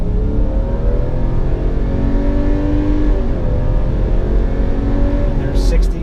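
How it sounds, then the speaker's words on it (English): A naturally aspirated 3.6-liter Subaru Outback 3.6R accelerates hard from inside, its engine note rising in steady climbing harmonics with road rumble underneath, and a voice may be faintly present. "There's an acceleration run."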